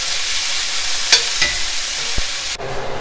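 Chopped peppers, minced garlic, minced ginger, thyme and scallions sizzling in a pan, a steady close frying hiss with a few sharp utensil clicks and taps, then the sizzle drops off abruptly near the end.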